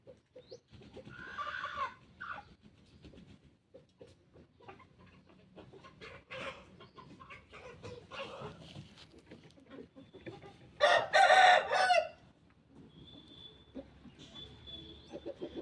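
Hens cluck steadily at close range while a rooster crows loudly, with a couple of shorter high calls toward the end.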